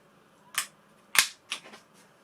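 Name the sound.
airsoft Ruger Mk4 pistol blowback bolt cycling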